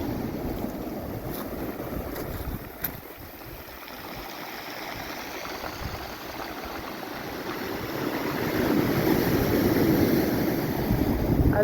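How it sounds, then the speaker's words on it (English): Waves wash in over rocks on a Cornwall beach, a steady rushing surge with some wind noise that swells louder toward the end, with no voices. "I love the way the waves are coming in here"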